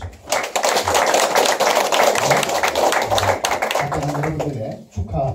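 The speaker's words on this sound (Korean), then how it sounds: "큰 박수로 맞이해주시면 고맙겠습니다" Audience applause greeting a speaker at a Korean administrative agents' association event, dense clapping from a large room that swells quickly, holds loud, then thins out as a voice begins speaking near the end.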